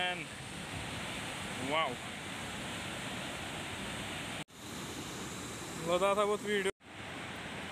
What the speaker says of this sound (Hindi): फाइनली हम काफ़ी क्लोज आ गए हैं वाटरफॉल के। यहाँ से नीचे गिरता है।